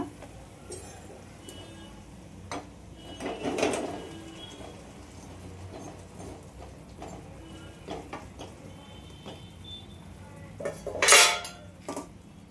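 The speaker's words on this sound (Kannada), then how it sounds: "ನೋಡಿ ನಾನು ಇದನ್ನು ಪಾಕದಲ್ಲಿ ಹಾಕ್ತೀನಿ ಇವಾಗ." Badusha sweets go into sugar syrup in a pan at home, with soft clinks of utensils against metal, a couple of louder clatters, and quiet kitchen background between them.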